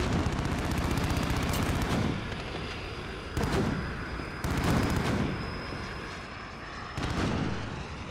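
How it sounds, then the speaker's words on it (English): Explosions in Call of Duty: Modern Warfare, heard as a sustained rumbling barrage broken into several loud bursts that start abruptly and fade, with steady combat noise and a faint whine throughout. "stuff's exploding and I don't like it"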